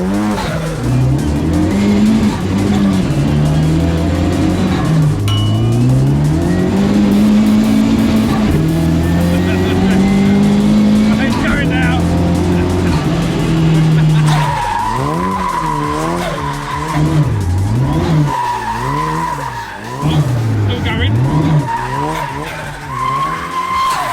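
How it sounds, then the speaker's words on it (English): A Mark II Ford Escort with a swapped-in Mark III Focus RS 2.3 EcoBoost engine revs hard and loud, with rising and falling engine tones, then squealing tires as it skids and slides. "It is a Mark II Ford Escort with a Mark III Focus RS engine in it."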